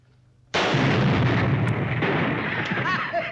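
A single dynamite blast bursts in suddenly after a near-silent moment, loud and close, then a long rumbling roar and debris noise decay slowly without fully fading.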